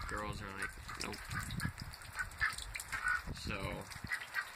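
Ducks or geese call repeatedly outdoors on a foggy morning, with nasal honking quacks in short bursts over a steady background hiss.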